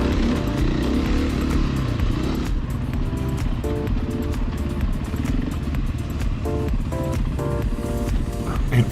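A Yamaha WR450 enduro motorcycle on a single-track trail, its engine droning steadily and loud throughout with shifting pitch and some clatter, no voices.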